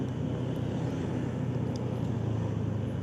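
A limited-edition Nissan Patrol engine running, a steady low rumbling drone that holds constant throughout at moderate loudness, with no talking.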